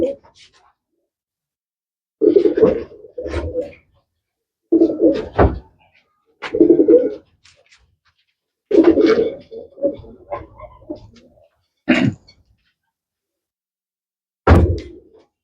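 Long-distance racing pigeons coo in short, separate low bursts with quiet gaps between them, close by, with an occasional knock or thunk.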